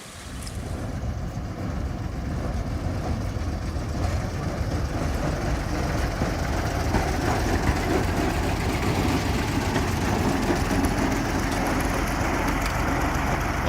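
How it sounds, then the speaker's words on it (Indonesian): Two Kyosan Kogyo sugar-mill locomotives of the Wringin Anom sugar factory rumble past on a narrow-gauge track, a steady low diesel engine drone that builds and holds loud and close throughout. "Itu dia sudah bergerak ke arah sini, kedua lokomotif Kyosan Kogyo pabrik gula Wringin Anom."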